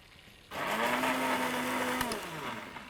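A kitchen blender whirs loudly, grinding chana dal with tomato puree, red crushed chilli, ginger-garlic paste, chicken powder and kasuri methi; the motor starts abruptly and runs steadily for over two seconds before easing off slightly.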